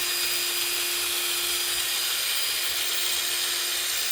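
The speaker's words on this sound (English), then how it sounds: "I'm drilling through the wall now," A power drill runs continuously and loudly, close by, using its bit to cut through the wooden wall of a handmade lamp the way a roto zip would. The tone stays even throughout, with no talking.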